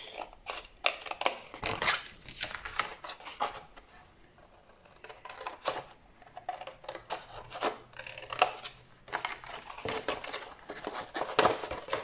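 Scissors snip through paper while a gift box is cut out on both sides, giving repeated close, crisp cutting and rustling strokes with a short quieter pause in the middle.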